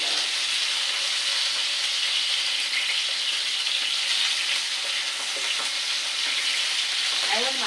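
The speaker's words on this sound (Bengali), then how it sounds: "এবার মাছটা ভাজি হচ্ছে" Small rohu fish frying in a pan in oil give a continuous loud, close sizzle and hiss throughout, with no talking.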